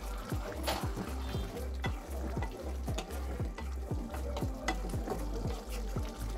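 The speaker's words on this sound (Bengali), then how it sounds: "গরম মশলা দিয়ে একটু নাড়িয়ে চাড়িয়ে নিলাম" Taro curry seasoned with garam masala, stirred in a pan over gas, giving a soft, low sizzle with repeated rhythmic scraping and knocking of the spoon, close but fairly quiet.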